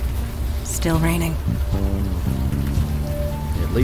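Steady rain in the video game Unavowed, a constant soft hiss of falling drops running underneath, while people talk over it.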